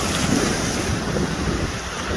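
Ocean waves surge at a beach on Hilton Head Island in a loud, continuous wash of broadband noise, buffeted by heavy wind on the microphone, with no talking.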